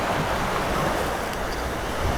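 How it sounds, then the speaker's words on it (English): Loud ocean waves at high tide wash and roar continuously close by, a dense, steady surge of surf noise with some wind buffeting and no voices. "the waves were so loud that I had to come down"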